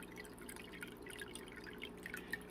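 Water from a Hygger two-in-one filtration water changer trickles and drips softly into an aquarium tank, with faint patters over a low, steady hum.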